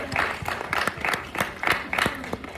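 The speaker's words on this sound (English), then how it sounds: "Give yourselves a great big round of applause." An audience at a Disney California Adventure Minnie Mouse drawing class applauds with a steady patter of clapping under a speaking voice, with periodic louder claps near the microphone.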